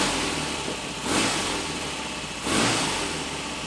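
A Royal Enfield Constellation motorcycle engine running after a hot start with full ignition advance, steady close idle with two brief throttle blips.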